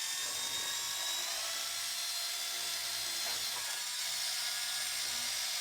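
A drill spinning a chucked radiator part as it is dragged across a metal file gives a steady, continuous high-pitched whine with a grinding hiss, close and unbroken throughout.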